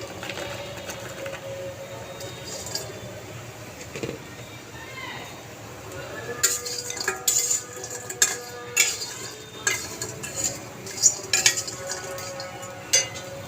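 Homemade pumpkin bori fry in a wok with a steady, broad sizzle, while a spatula clinks and scrapes against the pan in irregular knocks that grow more frequent later.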